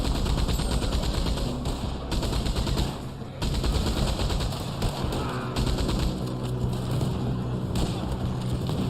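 Rapid machine-gun bursts and gunshots in a Red Dead Online shootout against an armored gunner, loud and near, firing almost without pause across the stretch.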